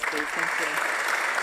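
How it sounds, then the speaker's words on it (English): A summit audience applauds its panelists with steady, dense clapping throughout, while a voice briefly speaks over the start. "Can we have a round of applause for our panelists"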